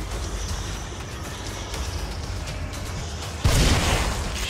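Bomb explosion in The Evil Within game, a sudden loud deep boom bursting out near the end after a steady rumbling background, with no talk.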